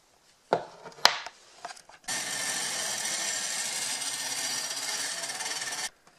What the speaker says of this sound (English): We're getting the rough grind in there